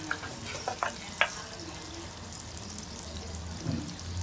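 Water is poured into a pan of gongura chana curry cooking in oil, with a few soft splashes and a low, steady simmer underneath. No one speaks.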